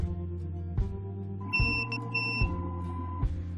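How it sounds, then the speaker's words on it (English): Two short electronic beeps from a Xinkebot Orca 2 Cygnus 3D printer sound over a steady mechanical hum, with soft clicks and motor whirs around them. "You'll hear beeps here when you do it."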